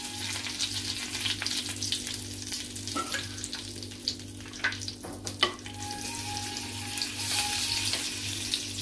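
Asafoetida dropped into hot oil with curry leaves for a masala brinjal, a steady close sizzle with occasional sharper spits and clicks and a faint low hum underneath.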